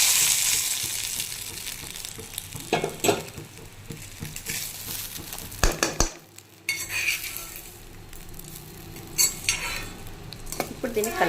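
Ingredients being stirred as they fry in a pan, with a steady sizzle under repeated scraping and clinking of a spoon against metal, a brief quieter gap midway, and no talking.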